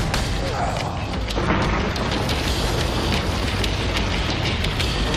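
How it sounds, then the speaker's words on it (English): Steady, heavy rain pours during a mountain storm, with low rumbling that suggests thunder beneath it. The wash of rain is loud and continuous throughout, and no voices are heard. "For Steve and his mining partner, Travis, the storm means they've made nothing for the day"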